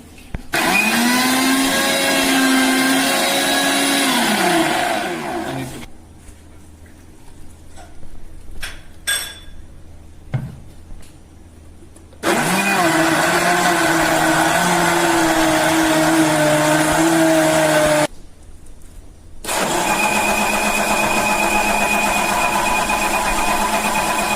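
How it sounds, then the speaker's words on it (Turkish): A blender whirs loudly in three long bursts separated by pauses with faint clinks, pureeing watermelon close up. "Mikserde, mikserde çekiyoruz"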